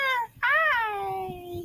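A pet cat lets out two clear meows close by, a short one followed by a longer, drawn-out cry that slowly falls in pitch, with no talking over it.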